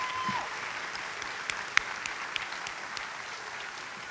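An elementary school audience at a kindergarten promotion ceremony applauds steadily for the teachers, a broad even clapping wash with a few sharper claps standing out, sustained throughout.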